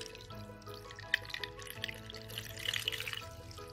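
Vegetable cooking water poured into a pot of okra sauce, a soft, steady close-up trickle and splash with faint clinks running under it.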